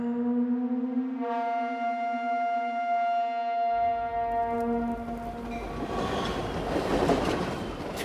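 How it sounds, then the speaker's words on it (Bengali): A train sounds a long sustained horn, then its rumbling run on the rails swells in with rattling wheels, loud and near, continuing as the horn fades. "ট্রেন ছুট লাগালো নিজের ছন্দে।"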